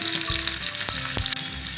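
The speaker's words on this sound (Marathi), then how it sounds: "आता आपण फोडणी करून घेऊया" Spices for dhokla tempering sizzle and crackle steadily in hot oil in a pan, a close, continuous frying hiss with a couple of sharper pops, no voices.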